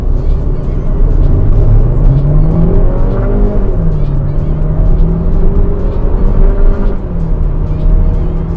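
A third-generation Changan CS55PLUS with a twin-scroll turbocharged engine and seven-speed wet dual-clutch gearbox accelerates from about 60 km/h, its loud engine note rising steadily with gear changes under strong road and wind noise.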